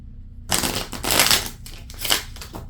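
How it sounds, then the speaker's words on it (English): A deck of playing cards is shuffled close up in several quick papery riffling bursts, crisp and fairly loud, with no talking. "let's shuffle again and pick out our second card"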